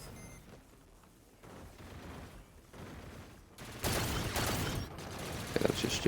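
Charged shots from the G-Wheel gun in Call of Duty: Infinite Warfare ring out as game gunfire, with quieter bursts first, then louder, denser blasts and mechanical clatter.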